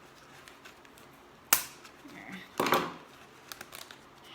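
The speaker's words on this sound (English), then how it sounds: "I'm gonna cut that open" A few crisp snips and crinkles of kid scissors cutting into a plastic bag holding hydrangea cuttings, close and quiet, with a brief word spoken between cuts.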